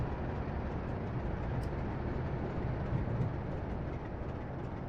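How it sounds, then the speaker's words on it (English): Freight train in Train Simulator 2020 near Dawlish Warren, on the Exeter St Davids to Paignton line: a steady, heavy rumble of rolling wheels and wagons that holds at an even, fairly loud level throughout. "Bit of a freight train just to the right of us"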